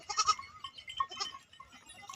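A goat bleats a few times in short, wavering calls, fairly close, with quieter farm background between the cries.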